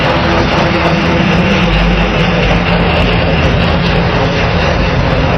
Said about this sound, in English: he literally just did an entire rotor wash over the place where the supplies are